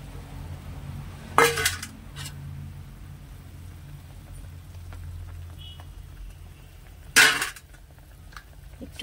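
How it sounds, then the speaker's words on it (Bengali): Bagda prawns drop into a hot pan for a malaikari, giving two loud hissing splashes of sizzle several seconds apart, with quieter bubbling and faint pan clinks between. "এবার আমি চিংড়ি মাছগুলো দিয়ে দেবো"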